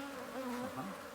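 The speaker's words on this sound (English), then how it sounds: "Bees are starting to run around the frame a little bit." Honeybees buzz around a brood frame lifted from a hive, a brief, faint, wavering drone of many wings.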